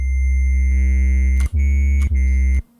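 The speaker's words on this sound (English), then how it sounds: "Let's turn on saturation a little bit." A sustained, buzzy Synth1 software synthesizer tone with gritty saturated harmonics, holding steady and briefly cutting out twice before stopping.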